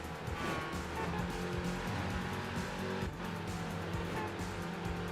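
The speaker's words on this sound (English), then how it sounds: "The low burble of the supercharged V8s" Supercharged V8 engine burbling in Midnight Club 3, a steady low throaty rumble with faint tire noise, held at a constant level throughout.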